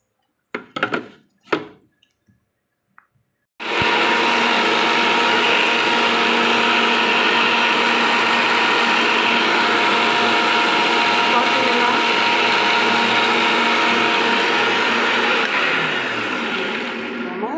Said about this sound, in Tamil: இப்போ நம்ம மிக்சியில் இதை அரைச்சிட்டு வந்துடலாம்